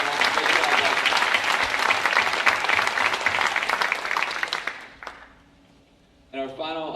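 At a 2016 school academic awards ceremony, an audience breaks into steady, dense applause that lasts about five seconds. It then fades to near silence before a speaker's voice resumes over the room.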